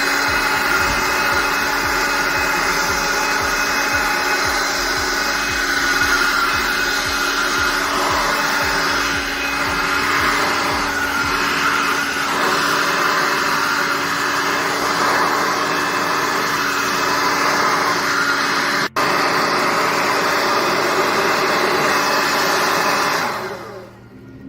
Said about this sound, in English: We got our Sunjoe leaf blower, 1 speed, 1 click turn on,